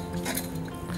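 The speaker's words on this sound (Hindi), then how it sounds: "इसको एक मिक्स दे देते हैं अच्छा सा." Utensil clinking against a bowl while bruschetta topping is mixed, a short run of light, close chinks over steady background noise.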